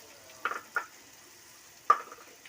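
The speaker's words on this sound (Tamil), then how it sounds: "ஒரு 2 நிமிஷம் அளவு வதக்கிக்கோங்க." Chilli powder being sautéed in a pan while making rava kichadi, heard as three short stirring scrapes and crackles against a quiet background.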